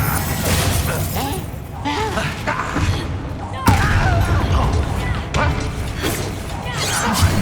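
Confringo spell blasts in the Hogwarts Legacy video game: repeated bursts of crashing, smashing impacts with one sharp loud hit midway, mixed with combat noise and a voice talking over it.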